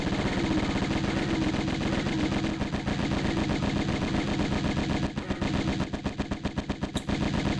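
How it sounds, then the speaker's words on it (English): Rapid automatic gunfire from the 1996 PS1 game Tomb Raider, a loud, dense stream of shots filling the clip, thinning into separate bursts near the end. "No bullets left, and I got him."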